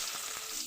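Chopped onion and a few cloves of minced garlic fry gently in oil, a soft steady sizzle running for under a second with faint stirring, alone and close.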